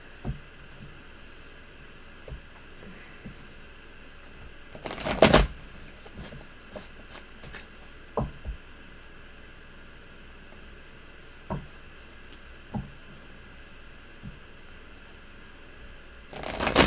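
Deviant Moon tarot cards shuffle and rustle softly at close range, with faint intermittent riffles, a louder burst of handling midway and another at the end, over a quiet room hiss.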